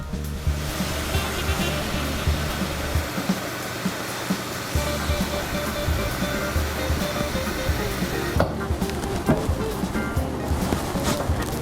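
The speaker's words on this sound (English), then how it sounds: "I'm going to actually run some hot water" Hot water runs from a tap into a pot as a continuous loud, rushing splash. The pitch shifts slightly as the pot fills, and the flow changes sharply near the end, with no talk over it.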